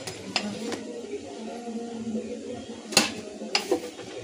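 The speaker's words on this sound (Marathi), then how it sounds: "दोन्ही साईडने चांगला भाजून घ्यायचा" A spinach and potato paratha roasts on a hot pan with a soft, steady sizzle, broken by a few sharp scrapes and taps of a spatula pressing and turning it.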